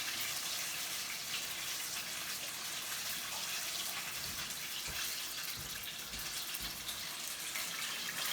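Running tap water splashes over a metal whisk as it is rinsed at a kitchen sink during Buffalo wings preparation, a steady broadband gush with faint knocks of the whisk underneath.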